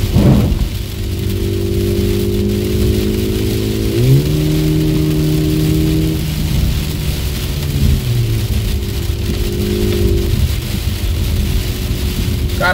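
A VW Polo GTS fitted with a K&N air filter revs up, its engine tone climbing in two distinct pulls and then easing back, over a constant hiss of rain and a wet track.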